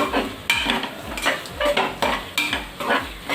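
Masala and tomato gravy for vada curry sautéed in a pan, with rhythmic scraping stirs of a spoon against metal over a steady close sizzle, several strokes in quick succession.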